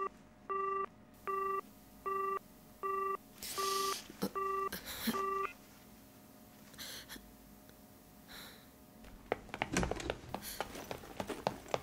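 Telephone busy signal after a failed call: a string of identical short tone bursts beeping in steady rhythm, about six pulses, followed by faint rustling and a few clicks with no talking.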